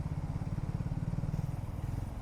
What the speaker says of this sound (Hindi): एग्जॉस्ट बहुत अच्छा है यार इसका, मज़ा आ जाता है एग्जॉस्ट सुन के।